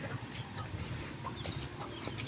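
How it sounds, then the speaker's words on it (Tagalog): Chickens cluck softly in short scattered bursts over a steady low outdoor rumble, fairly close but not loud. "mga manok oh andyan yung likod namin"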